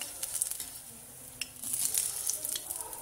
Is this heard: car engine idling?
no